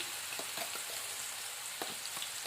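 Green chillies fry in hot oil, giving a steady, dense sizzle with faint stirring clicks scattered through it; no one speaks.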